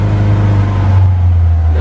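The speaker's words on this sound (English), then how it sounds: "now that the car is started, we're letting it warm up." A car engine warming up after a cold start with the choke pulled, holding a loud, steady low idle with a strong constant hum close by.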